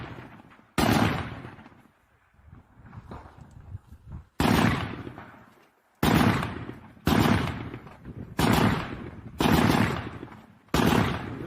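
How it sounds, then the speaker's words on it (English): Gunfire from a technical, an armed pickup, shooting down a street in a war zone, heard as loud, sharp bursts of automatic fire repeating at roughly one-second intervals, with echoing decay between them. "We now see the technical firing down the street."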